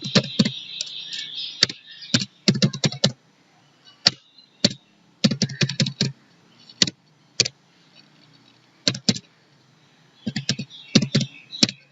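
Keys clacking on a computer keyboard as values are entered into an Excel 2019 spreadsheet, in quick bursts of close taps separated by short pauses, with no talking.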